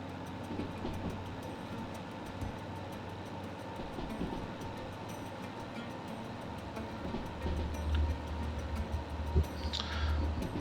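A DH4 diesel locomotive in the Derail Valley train game rumbles along steadily with a low engine drone and faint rhythmic clicks, growing a little louder and heavier near the end.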